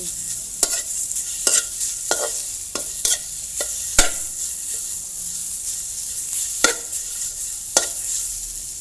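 Pork belly stir-frying in oil in a pan for a Thai dish of fermented bamboo shoots, sharp intermittent scrapes and clacks of a spatula tossing the meat over a soft continuous sizzle, close and fairly loud.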